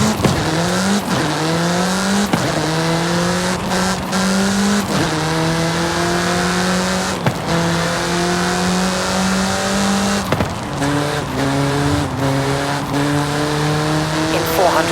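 Game car in Forza Horizon 5 accelerating hard through repeated gear changes, engine pitch climbing and dropping in steady cycles with brief tire squeal, loud and close throughout.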